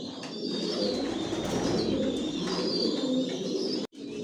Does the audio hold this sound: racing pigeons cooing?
yes